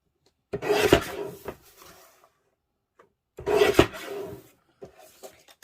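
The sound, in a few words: cutting cardstock for a card base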